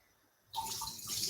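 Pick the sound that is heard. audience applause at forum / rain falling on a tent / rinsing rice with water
rinsing rice with water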